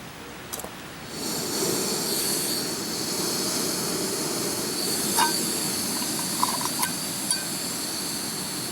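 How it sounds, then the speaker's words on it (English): A steady roaring hiss of an Optimus Crux camping stove's gas flame boiling water starts abruptly and holds evenly, with a few faint clicks and clinks over it. "I'm using the Optimus Crux stove."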